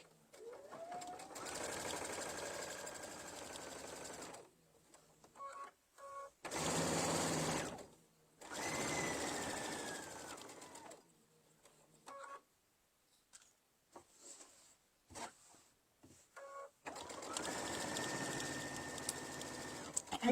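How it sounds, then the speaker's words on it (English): Sewing machine stitching around three sides of a Thanksgiving gnome apron, running in several bursts of steady buzzing with pauses between, some quiet talk in the gaps. "we're going to stitch around the 3 sides using our little tie off button."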